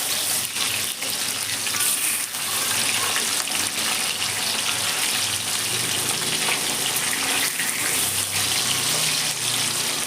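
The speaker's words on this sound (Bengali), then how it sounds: "দেখুন, মাছটা আমার লাল লাল করে ভাজা হয়ে গেছে।" Fish pieces fry in a pan for a festive-style fish kalia, producing a dense, loud, rushing sizzle that holds steady throughout with no voices.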